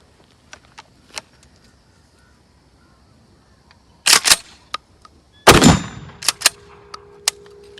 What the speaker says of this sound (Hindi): हमने इसको पंप करके रीलोड किया और फायर किया